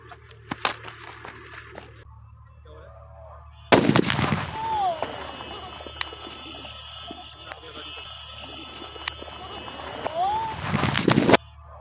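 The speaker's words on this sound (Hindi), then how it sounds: "हमारा धमाका बहुत ही जोरदार हुआ" A few faint pops come first, then a Diwali firecracker bomb set with petrol bursts into a sudden loud blast and several seconds of roaring, crackling noise before cutting off.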